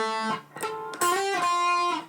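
Electric guitar plays the third part of a riff, a short run of distorted sustained notes moving between pitches, loud and close with no talking.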